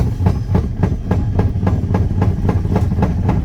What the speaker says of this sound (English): That's something rotational in the drivetrain, like something wrapped around an axle or something.